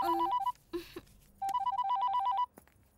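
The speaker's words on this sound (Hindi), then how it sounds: "मोबाइल की घंटी सुनाई नहीं देती क्या?" A mobile phone rings in the film Mard The Khiladi, a rapid electronic trilling ringtone in two close bursts, bright and repetitive, with brief background noise between them.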